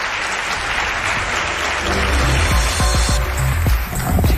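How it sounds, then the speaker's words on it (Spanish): An audience at a live broadcast claps in a loud, sustained wash of applause that keeps going throughout. "Un aplauso os pido para ellos dos."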